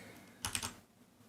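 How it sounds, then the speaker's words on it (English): A brief burst of about three quick computer keyboard keystrokes, typing shortcuts, close and fairly quiet over a faint background hum. "Yeah, I'll just use keyboard shortcuts for now."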